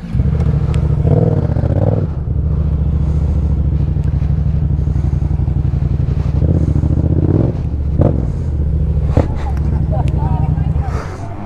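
Yamaha MT-07 motorcycle engine revving during a burnout in Croatia, a loud, steady low droning roar with a few surges, running under continuous nearby talking.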